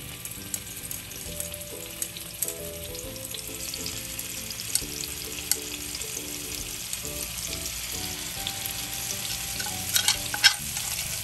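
Fresh fish, pomfret or kingfish, frying in oil in a pan, a continuous loud sizzle with crackles and pops, with a steady hum and faint clinks in the background.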